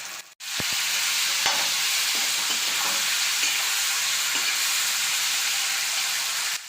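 Raw plantain slices stir-fried in a pan with mustard seeds, fennel and curry leaves give a loud, steady sizzle, broken by occasional soft scrapes and clicks of stirring, close and without talk.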